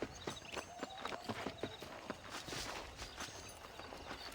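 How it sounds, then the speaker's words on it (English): Horse hooves in the Western video game Red Dead Redemption clop in a quick, regular gait, fairly close but soft, with faint background game ambience and no clear talking. "Meu cavalo."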